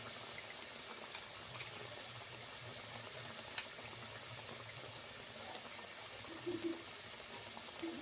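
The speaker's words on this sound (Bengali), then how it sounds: "ফুটে উঠেছে ঝোলটা" Fish curry gravy simmers and boils in a pan, a steady soft bubbling hiss of liquid heard close and fairly quiet throughout, with a couple of small pops near the end.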